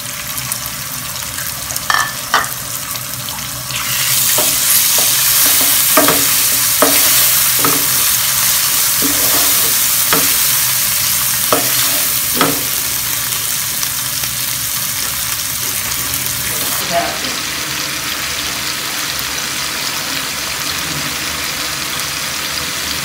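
Tomato frying and being stirred into a spice paste for a Bengali pabda fish curry: a steady sizzle runs throughout with repeated scraping stirs, close and fairly loud, with no talking.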